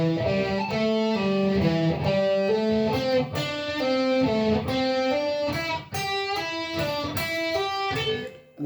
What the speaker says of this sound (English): one of my favorite hammer-on and pull-off exercises, which slowly will look and sound like this